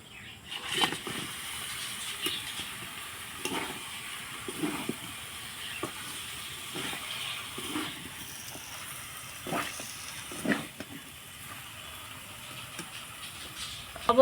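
A washed goat head goes into a pan of fried spices, giving a faint, steady frying hiss with scattered soft clatters and bumps, quiet and close, with no talking.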